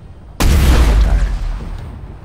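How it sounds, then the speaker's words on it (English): A gun shot at a tire in Space Engineers: one sudden loud blast with a deep boom that rolls and decays over about two seconds. "Definitely can shoot a tire."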